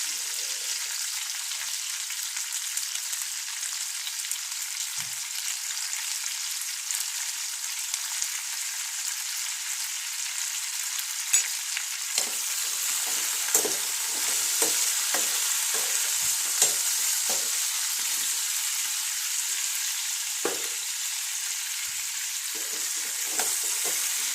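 Star fruit pickle mixture sautés in sesame oil with salt, a steady close sizzle running throughout, with faint scraping and tapping of a stirring spoon growing more frequent toward the end.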